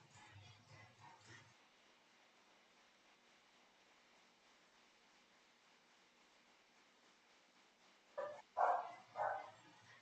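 A dog in the Wii Fit Plus video game gives a few short barks near the end, after a long stretch of faint hiss and a brief low murmur at the start.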